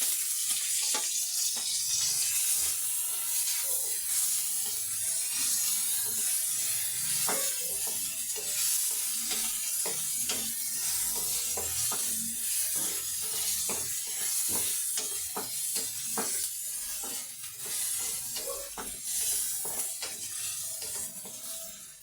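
Onion sizzles in a pan as it cooks toward translucence, a continuous hissing crackle with frequent small pops and stirring clicks, close and unbroken for the whole stretch, with no voices.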